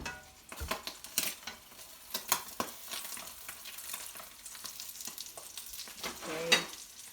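An egg frying in a pan, with crackling, bubbling sizzle and sharp spatters throughout, plus a few scraping clinks of a spatula, close but fairly quiet, with no talking.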